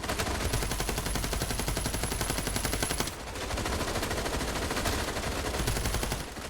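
An LMG machine gun in the video game FragPunk fires long, steady automatic bursts at a rapid, even rate. The fire is loud and close, with a brief dip partway through before it resumes.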